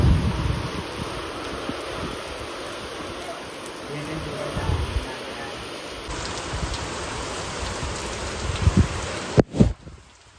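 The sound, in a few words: heavy unseasonal night rain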